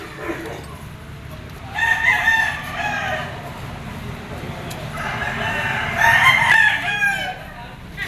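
A yellow-legged Picom gamecock stag at a poultry auction market crows twice in long, loud calls, with a quieter stretch between them over faint background murmur.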